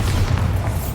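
A Bombarda spell explodes in Hogwarts Legacy, one heavy booming blast with a deep rumbling body that fills the whole second, loud and close.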